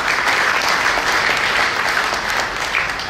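Audience applause at a union safety summit, a full room clapping steadily and loudly throughout, dense and continuous with no talk over it.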